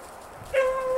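A harehound pup, Rowdy's pup, gives a short, sharp, high yip while working a hare in a swamp, fairly close and briefly ringing out over quiet outdoor background.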